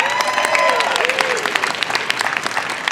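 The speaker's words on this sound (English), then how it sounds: "Give her a round of applause." Audience applause at a live science demo, a burst of clapping from a crowd with overlapping voices and a cheer near the start, tapering off quickly.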